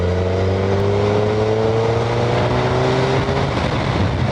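A Suzuki Hayabusa engine roars steadily and loudly as it accelerates in sixth gear from 80 km/h on a highway, its drone rising slowly in pitch, with heavy wind noise throughout.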